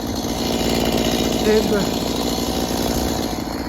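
A chainsaw engine drones steadily nearby, its motor humming without pause, with a brief voice mixed in.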